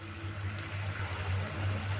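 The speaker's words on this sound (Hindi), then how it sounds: "इसमें 1 गिलास जो है वो पानी शामिल कर देंगे।" Glass of water poured into a pot of cooking meat for a rice and meat dish, a soft continuous stream with gentle bubbling over a low steady hum, quiet and close.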